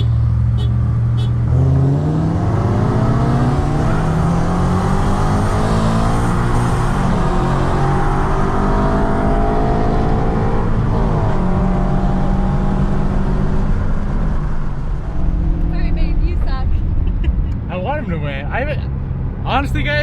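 A stock Scion FR-S and a Stage 2 Subaru BRZ in a 20-to-60 mph roll race, engine loudly revving and climbing through gears in a rising whine, with people talking over it.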